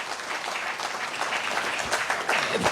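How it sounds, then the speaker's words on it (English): Audience applause for a Kenyan politician at a business talk, continuous clapping from a crowd at steady loudness, with a few louder individual claps and faint voices underneath. "Another round of applause for Mheshimiwa."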